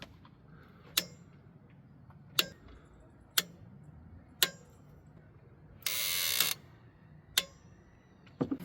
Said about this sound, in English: now we can torque our bolts down to 18 foot-pounds